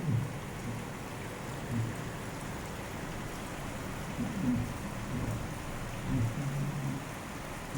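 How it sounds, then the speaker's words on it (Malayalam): Steady heavy rain falls in a continuous broadband wash, with occasional low rumbling swells underneath and no voices. "മഴ എപ്പോഴും നല്ലപോലെ പെയ്യുന്നുണ്ട്"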